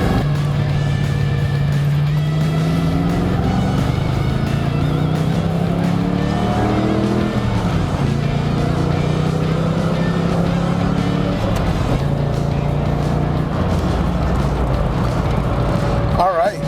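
A Ford Mustang fitted with a Tremec TKX manual gearbox downshifts from third to second into a roundabout. The engine note climbs and drops in several close, loud rev sweeps between gear changes.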